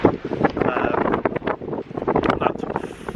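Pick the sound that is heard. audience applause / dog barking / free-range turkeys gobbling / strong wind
strong wind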